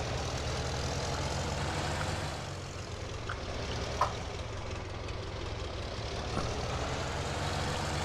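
A farm vehicle engine idles and runs steadily in a farming simulation game, a low, even drone with a faint knocking texture, continuous and unchanging, with no talk over it.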